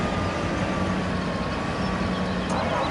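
A tractor engine running at a steady drone, a constant low rumble with an even, unbroken hum throughout, heard up close with no voices.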